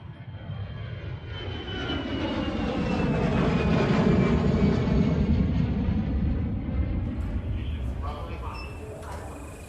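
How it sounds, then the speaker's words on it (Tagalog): An airplane's engines roar as it flies on a trip to the province of Capiz, a loud, steady drone that rises and falls gently with a whine near the end. "nakababa na din tayo ng eroplano"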